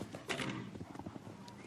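Show-jumping horse cantering at a Global Champions Tour Grand Prix at Chantilly over 1.60 m fences, hoofbeats thudding in an uneven clip-clop rhythm at moderate distance beneath arena ambience.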